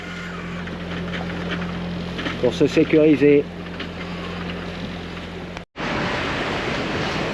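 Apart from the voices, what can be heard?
sailboat's auxiliary engine running at sea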